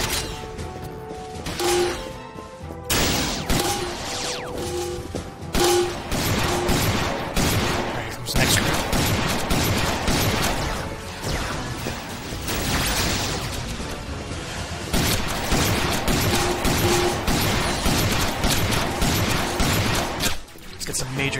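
Shotgun blasts in the Dyna Marisa 3D video game, a near-continuous dense barrage of loud booming shots and crashes layered with game effects, with brief gaps early on.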